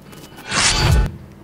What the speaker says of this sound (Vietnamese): mình sẽ thêm cái tiếng đó là tiếng giấy